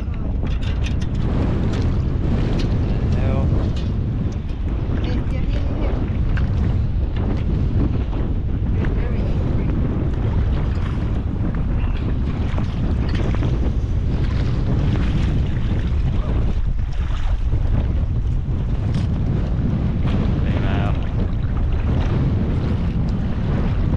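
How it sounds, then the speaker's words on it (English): Strong wind at a beach roars continuously into the microphone, a loud, unbroken buffeting rumble with faint surf beneath and no pause for the whole stretch. "Very windy."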